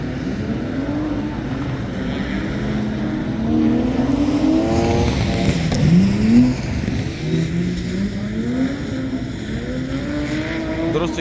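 Drift car sliding on a wet track at Biķernieki, its engine revving and falling in rising and falling sweeps at mid distance under a steady background roar, with people talking over it.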